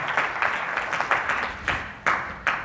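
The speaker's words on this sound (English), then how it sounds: "we want to congratulate you and give you a big round of applause for coming here" Audience applause at a talk by a Muslim speaker to visiting American Christians, a loose patter of clapping with several sharper individual claps standing out, moderately close and without speech.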